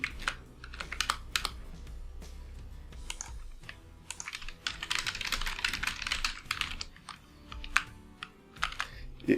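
Typing on a computer keyboard while editing an SQL command, quick bursts of close, quiet key clicks with short pauses between them, and a denser run of keystrokes in the middle.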